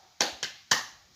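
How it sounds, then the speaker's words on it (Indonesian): Children do a 'tepuk semangat' spirit clap during a fourth-grade lesson: three sharp, separate hand claps in an uneven rhythm, fairly quiet and with nothing else around them. "Ayo kita tepuk semangat dulu ya."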